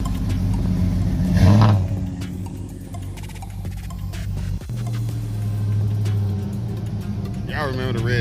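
A red pickup truck's engine, freshly repaired after a bent connecting rod, runs and revs in a steady low drone, with someone talking loudly over it.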